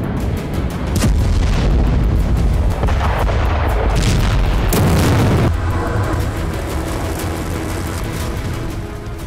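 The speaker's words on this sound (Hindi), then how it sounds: "अमेरिका ने अब तक की सबसे घातक और सबसे विनाशकारी मिसाइल का टेस्ट किया" A hypersonic missile test explosion in a military war zone, heard as a sustained, loud, booming blast with deep rumbling that swells and holds before tapering off slowly, with no voices.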